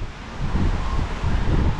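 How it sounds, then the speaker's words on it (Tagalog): Strong wind buffets the microphone outdoors during light drizzle, a close, loud, gusting rush of low noise that swells and eases over a couple of seconds. "Lakas ang hangin."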